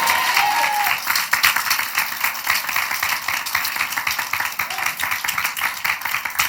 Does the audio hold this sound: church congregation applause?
yes